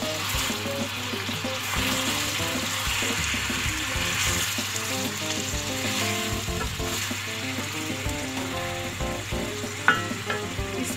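Tomatoes with spices, garlic and browned onions frying in a pan for spicy biryani, a continuous close sizzle with repeated stirring scrapes and a sharp clink near the end.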